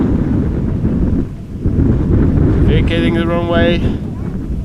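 Strong crosswind at Amsterdam Schiphol Airport buffets a handheld camera, a loud continuous roaring rumble that surges and dips, while a radio voice speaks briefly over it.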